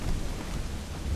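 Rain and a low rumble of thunder during a storm at sea in Assassin's Creed Black Flag, a steady wash of rainfall over a deep continuous roll, dense and fairly loud, with no voices.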